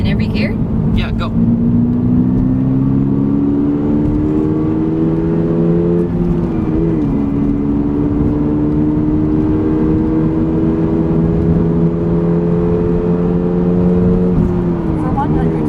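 A 2022 Subaru BRZ pulls at wide-open throttle through the gears, the engine note climbing loud and close, dipping briefly at a shift around the middle before rising again; steady and dominant throughout.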